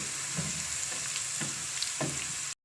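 Potato chips coated in gram-flour batter fry steadily in hot oil, a continuous close sizzle with soft periodic bubbling bursts, cutting off abruptly at the end.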